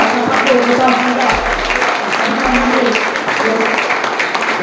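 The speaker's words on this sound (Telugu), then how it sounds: "మరి ఘనంగా చప్పట్లు కొట్టాల్సిందిగా" Applause from an audience at a workplace safety-week ceremony honouring women employees who performed CPR, a dense steady clapping wash over the whole stretch, with a voice talking over it and brief low thumps.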